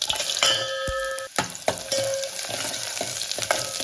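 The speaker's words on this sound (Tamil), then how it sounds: "பூண்டு வரமிளகாய் வந்து நல்லா வறுந்து வரணும்" Garlic and dried red chilies fry in oil with a bright, close crackling sizzle, broken by a few sharp metallic clinks of a spoon against the pan.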